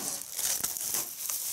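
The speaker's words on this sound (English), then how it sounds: "let's just take the cellophane off" Cellophane wrapper being peeled off a hardcover art book, a close, soft run of crinkling and crackling with a few sharper tearing snaps, continuous for about a second and a half.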